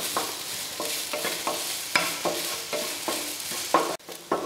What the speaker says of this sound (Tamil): தேங்காய் நல்லா மொறுமொறுப்பாக நல்ல கலர் மாதிரி வறுத்தாச்சு